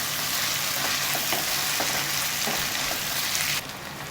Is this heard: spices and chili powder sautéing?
yes